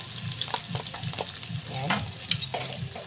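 Garlic sautés in a hot pan with steady sizzling and scattered stirring scrapes, close and moderately loud, while a voice briefly speaks over it.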